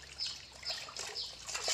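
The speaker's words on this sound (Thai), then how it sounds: "นี่คือเคล็ดลับหว่านหัวอาหารลงไปในน้ำก่อน" Fishing bait scattered by hand into water, producing light splashes and trickling patters in several small bursts over a couple of seconds, close by.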